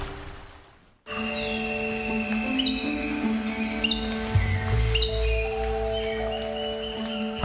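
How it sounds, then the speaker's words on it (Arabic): Many birds in a Colombian forest chirping and calling continuously after a brief quieter start, with repeated whistled notes layered over a dense chorus and some low rustling. "الطيور ذات الألوان الجميلة تحلق، ومجموعة كبيرة منها تزقزق ليصل صداها عبر الأشجار"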